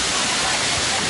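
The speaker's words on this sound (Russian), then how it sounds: "Водопадик." Steady, loud rushing water from the Kbal Chhay waterfall near Sihanoukville, Cambodia fills the short clip, a dense broadband roar close by, with no voices.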